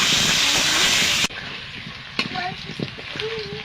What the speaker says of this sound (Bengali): আমি আলুটা একটু ভাজা করে নেব।